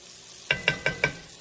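Fries and onions cooking together in a pan: a low sizzle under four quick, evenly spaced metallic stirring scrapes, close and moderately loud, then the sizzle continuing alone.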